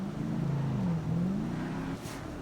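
A V12 sports car engine, the Paragon R in GTA 5, revs steadily, pitch rising and falling in a smooth sweep, loud and close, with no talking.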